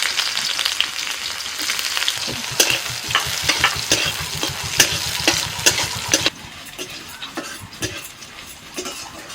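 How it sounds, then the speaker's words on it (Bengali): Steady hiss of onions frying in hot oil with dried chillies, rhythmic scraping stirs and clinks, close up, no voices, quieting toward the end. "ফোড়নে শুকনো লঙ্কা দিয়েছি এবার পেঁয়াজগুলো দিয়ে দিচ্ছি"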